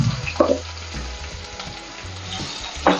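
Cumin, fenugreek, onion, garlic and curry leaves sautéing in hot oil for a homemade pomfret fish curry, with a steady close sizzle and a few louder stirring scrapes near the start and end.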